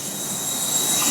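A passenger train pulls into Edappally station in Kerala, its wheels squealing in a steady, high-pitched metallic hiss with rolling rumble beneath, close and continuous with no speech.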